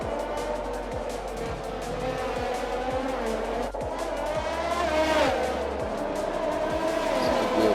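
Formula 1 cars race wheel to wheel through Monaco in the F1 2021 game, their engines droning loudly and continuously, with repeated rhythmic thumps, tire squeal and a sharp contact knock in the middle.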